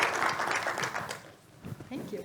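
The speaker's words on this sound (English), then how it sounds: "if you will join me in giving them a round of applause" An audience at a conference session applauds after the presentations, a brief patch of clapping that is moderately loud and mixed with a speaking voice.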